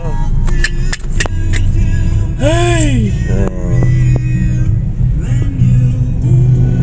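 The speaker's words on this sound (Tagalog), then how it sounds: "Ay nako, grabe na namang traffic ano." Busy road traffic with a steady car engine drone and passing vehicles, a horn-like tonal blare near the middle, while a voice calls out and people talk in between.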